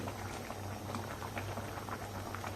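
Rice boiling uncovered in a pot of water, a steady close bubbling and popping with a low simmering rumble, continuous and alone without talk.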